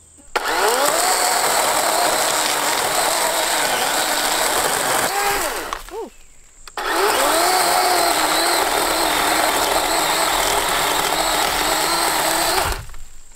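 A Dewalt 20V cordless battery chainsaw cutting through an oak hardwood log about seven inches thick, a loud, high electric whine that bogs slightly under load, with a brief drop-off in the middle before the cut resumes.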